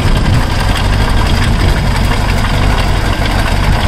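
Premier Padmini's 1089cc petrol engine idles with a steady, loud low rumble and faint knocking vibration throughout, no voices over it.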